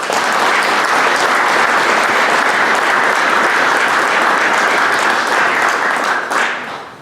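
Loud, sustained applause from an audience at an agriculture industry reception, a dense even roar of clapping that holds for about six seconds and then fades quickly.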